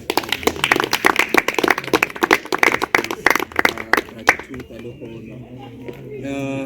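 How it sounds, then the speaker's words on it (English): An audience claps at a Youth Day career exhibition, a dense burst of hand claps that thins out after about four seconds and gives way to quieter tonal sounds. "Let's give him a round of applause for"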